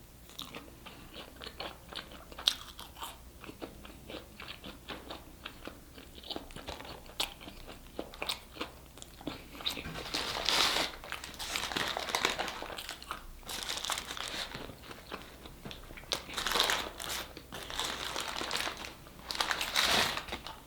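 Someone bites into and chews a McDonald's Big Mac, with close, crunchy, wet chewing in repeated bursts and the crinkle of the wrapper, over about twenty seconds with no talking.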